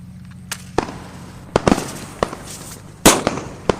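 Firecrackers bursting outdoors during Chhath Puja celebrations: several sharp, loud bangs at irregular intervals, with the biggest crack near the end, over a low steady background hum.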